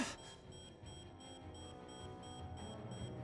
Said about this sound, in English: Oh, that beeping.